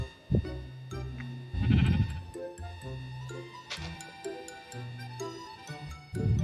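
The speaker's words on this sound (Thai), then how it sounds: "แกะเพียบเลยทุกคน" Sheep in Minecraft bleat several times, one nearby and loud, others fainter, scattered through the scene over a steady background tone with no talk.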